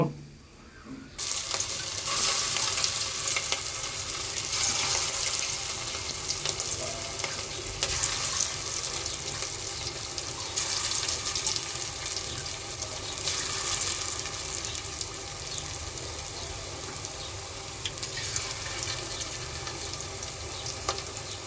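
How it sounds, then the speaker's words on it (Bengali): Homemade corn pakoras, made with corn, three kinds of lentils and rice flour, deep-fry in hot oil with a loud, steady bubbling sizzle that holds for about twenty seconds after a brief quiet start. "এইভাবে আমরা সবগুলো ভেজে নিব"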